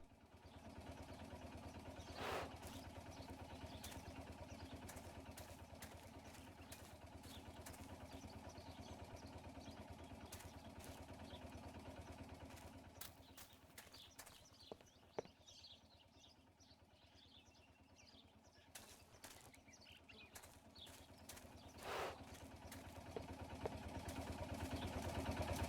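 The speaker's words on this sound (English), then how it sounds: "The generator. It's very important these days as the power goes out often." A generator engine chugs steadily in the video game Martha is Dead, a faint, continuous low idle running throughout with scattered small clicks and ticks, no voices.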